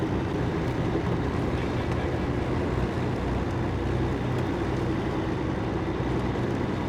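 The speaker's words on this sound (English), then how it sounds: "I'm going to leave it quiet for a little bit so that you can just listen to the sound of the actual engine." Kenworth W990 truck engine in the video game Snowrunner, a steady low droning rumble that holds evenly throughout with no talk over it.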